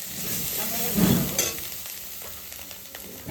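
Masala with salt and turmeric is fried in a pan, giving a continuous close sizzle with occasional stirring scrapes and a swell of frying noise partway through.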